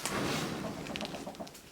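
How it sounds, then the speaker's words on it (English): Three chickens on a night roost give soft, low clucks and murmurs, faint and close, with no voices. "Wow, we have 3 chickens on the roost tonight."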